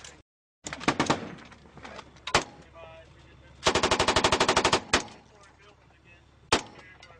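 Gunfire comes from a window: loud, close bursts of rapid automatic fire mixed with sharp single shots, separated by brief pauses and a lingering echo.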